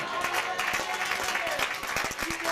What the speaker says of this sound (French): Applaudissements pour le Seigneur